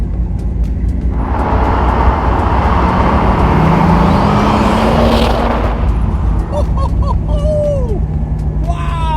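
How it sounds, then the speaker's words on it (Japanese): A Toyota Supra engine downshifts through the gears, roaring loud and close with shifting revs and a steady whine, while a voice speaks briefly near the end. "フォース、サードのダウンシフト、セカンドのダウンシフト"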